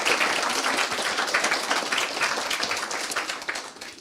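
Audience applause for six award nominees at a graphic novel award ceremony, a dense, steady clapping from a crowd that carries on throughout and thins slightly toward the end.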